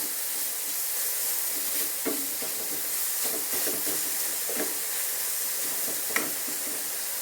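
Masala sizzling and hissing steadily in a hot pan while being sautéed for a Kerala-style fried fish roast, with a few soft stirring scrapes and clinks over a constant bed of frying noise, no talking.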